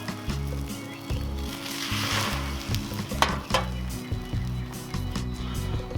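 Slices of pumpkin spice French toast sizzling on a Cuisinart 360° griddle, a steady close hiss with a low rhythmic hum beneath and a few soft clicks, no voices.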